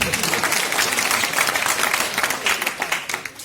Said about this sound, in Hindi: ताली बजा इस बात